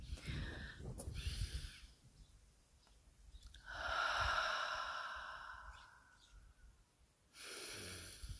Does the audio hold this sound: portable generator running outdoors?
no